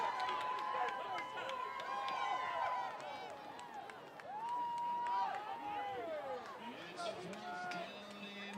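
A high school football crowd in the stands during a Mountain Vista versus RCHS game, a loud wash of cheering and shouting voices, with individual calls rising and falling through the roar.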